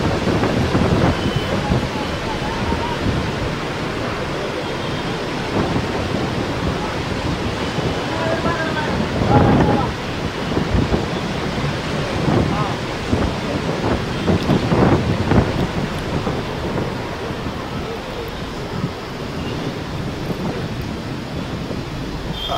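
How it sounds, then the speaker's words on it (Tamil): Storm wind roars around an ashram, a dense, continuous outdoor rush with heavy gusting noise that swells a few times. The wind stays loud for the whole stretch. "இந்த ஆசிரமத்தை சுற்றி புயல் காற்று அடிச்சது"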